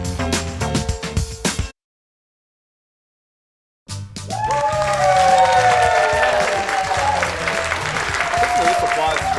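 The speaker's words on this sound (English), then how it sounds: "This applause for you." A television studio audience claps and cheers loudly, a dense steady wave of applause following a short burst and a brief silent gap, continuing strong to the end.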